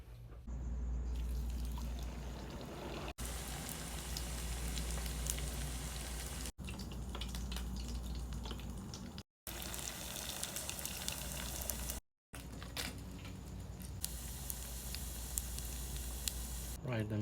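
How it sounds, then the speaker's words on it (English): Crab rangoon wontons deep frying in hot oil, a loud continuous bubbling sizzle with crackles and spatters, close up and broken by a few brief cuts, with a voice talking at times over it. "let's go fry them"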